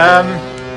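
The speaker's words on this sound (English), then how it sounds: "It's the Love Boat theme." The Love Boat theme plays on a cruise ship, sustained tonal music with rich harmonics, a held chord that sounds like a melody playing on a speaker nearby, fairly loud.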